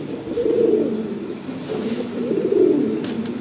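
Fancy pigeons, a prized breeding pair, give low rolling coos close by, two swelling phrases with a brief dip between, over faint room background and no talking.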